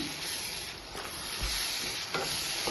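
Cucumber curry being stirred in a pan after cumin and coriander powder go in, a close scraping stir over a continuous soft sizzle, with no talking.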